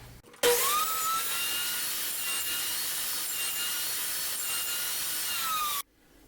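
A power saw spins up and cuts through MDF board in a woodworking shop, a loud, steady whining rasp lasting about five seconds before winding down.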